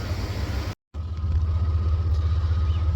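A 1993 Chevrolet Blazer drives along with a steady, low engine rumble heard from inside the cab, broken by one brief cut to silence.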